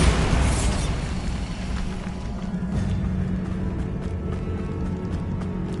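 A Bombarda spell blast in Hogwarts Legacy, a loud booming burst at the start that trails into a sustained rumbling, crackling roar of debris and game noise with no voices.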